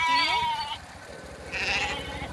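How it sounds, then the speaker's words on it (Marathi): Goats bleat twice up close, two loud wavering cries separated by a brief pause. "जास्त शेळ्या"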